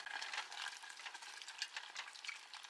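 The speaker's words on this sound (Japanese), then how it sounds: "塊にならないように広げながら混ぜて" Sliced pork being stirred and spread apart in a pot of soup with Chinese cabbage, giving a close, steady sizzling bubble with soft scraping, alone without talk.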